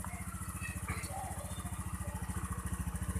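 A Honda Beat automatic scooter engine idling at about 1600 to 1700 rpm, a steady, even low putter with a regular pulsing rhythm, close and quiet, running alone.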